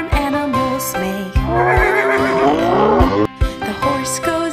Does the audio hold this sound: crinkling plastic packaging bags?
no